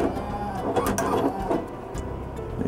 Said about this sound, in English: we will align the printer